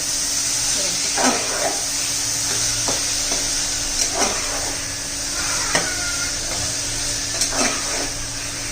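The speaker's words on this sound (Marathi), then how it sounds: "त्यामध्ये आता हे सोडे घालायचे ते पण चांगले याच्यात परतून घ्यायचे दोन मिनिट चांगले चांगले परतून मिळाले पाहिजे" Dried shrimp are stirred and sautéed in oil and masala, giving a steady hissing sizzle broken by several spoon scrapes against the pan.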